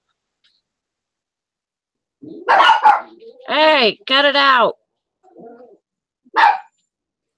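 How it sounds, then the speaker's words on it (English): Small yappy dogs barking in a home, a few sharp yips and barks close by, mixed with someone speaking over them. "My dogs are yappy."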